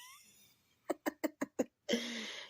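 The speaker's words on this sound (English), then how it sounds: "He is snoring." A pet snoring nearby at night, five short, evenly spaced rasping snorts in a quick row followed by a longer drawn-out breath, faint and intimate in a quiet room.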